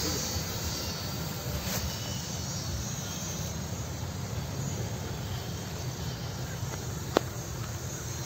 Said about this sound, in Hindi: इसे आपको इस तरीके से वो छोड़ देना हवा में कुछ इस तरीके से और आपका ये उड़ने लगेगा